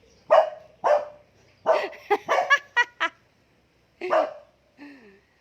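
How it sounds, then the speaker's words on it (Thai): A dog barks in short bursts several times, loud and close, between stretches of a woman singing a Thai song in a home garden setting. "หมาเห่า"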